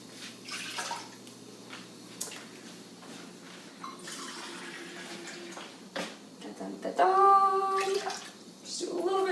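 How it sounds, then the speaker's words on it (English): Water runs and splashes from a tap into a pot, about two cups meant for boiling, with a steady gurgling stream that rises in pitch as it fills. "I just like to take a little over 2 cups of water"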